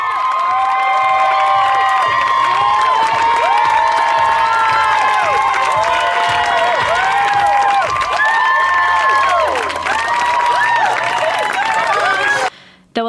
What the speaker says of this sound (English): The incredible nature of the Tour de Bruce was perfectly embodied by all the spectators cheering as the